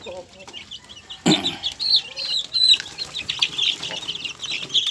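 Young chicks peep in rapid, high, repeated cheeps close by. A sudden burst of wing flapping and fowl clucking from a farm coop breaks in partway through.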